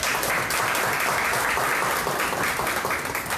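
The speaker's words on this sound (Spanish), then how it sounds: "Un aplauso, por favor." Audience applause at a book presentation during an international book fair, a steady dense wash of clapping that stays loud and even throughout with no talk over it.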